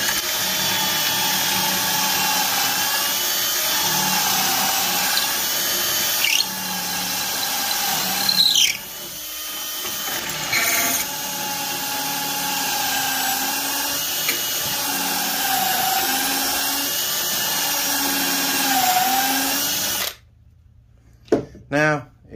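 A Kreg pocket-hole jig clamped to a workpiece while a drill bores pocket holes, a loud continuous whirring drone with shifting pitch and brief squeals, stopping near the end into quiet with a few faint knocks.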